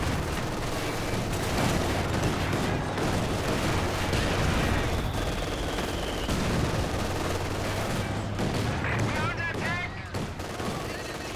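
Sustained battlefield gunfire from a Company of Heroes 2 match, with Maxim machine-gun bursts blending into dense volleys and distant booms, loud and continuous throughout, with a voice speaking over the fighting.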